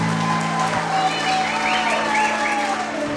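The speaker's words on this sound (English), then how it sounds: "Let's give them a round of applause." Wedding guests applauding after a toast, a steady round of clapping from the room with a voice speaking over it.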